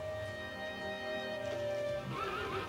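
A horse whinnies with a long, wavering neigh over a faint background, with a hint of hooves clopping.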